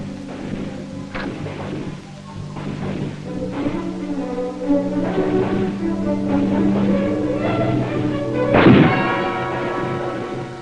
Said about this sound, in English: Initial firing with the M1 is done at close range, one round at a time.